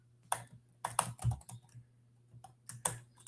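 Typing on a computer keyboard during a crypto wallet walkthrough: short bursts of clicky keystrokes with pauses between them, close but quiet, with no talking.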